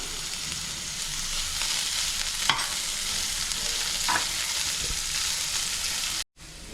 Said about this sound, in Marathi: कांदा थोडा भाजून घ्यायचा आहे एक मध्यम कांदा चिरून घेतलेला आहे आणि दोन मिरच्या